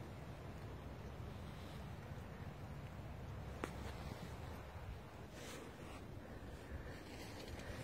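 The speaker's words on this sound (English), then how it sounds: "here's the water flowing down" Steady broadband rush of spring water flowing down over rocks, continuous and fairly loud throughout, with a brief sharp click midway.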